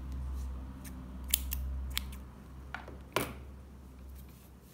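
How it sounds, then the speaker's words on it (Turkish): Scissors snipping sewing thread, a few small crisp clicks and one slightly louder cut, close and quiet over a low background hum. "İpi kesiyorum."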